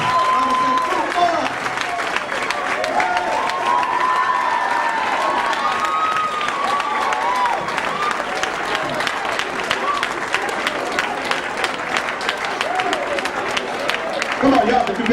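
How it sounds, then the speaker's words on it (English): Audience applauding young winners at a Nation of Islam youth event, sustained dense clapping with some cheering and crowd chatter filling the room throughout. "give them a round of applause"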